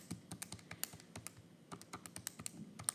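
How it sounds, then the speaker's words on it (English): Rapid, irregular clicks of calculator keys as numbers are entered one after another, close and crisp with brief pauses between bursts, no voices. "do that on your calculator, type all those numbers in"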